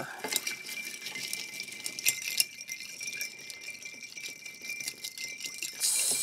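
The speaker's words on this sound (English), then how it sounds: "Now, ice these down. And give them a stir." Ice rattling and clinking as two cocktail glasses of a 1931 Daniel de Rouge with orange bitters are stirred: a steady, busy jingle of cubes against glass, close and continuous, with no talking.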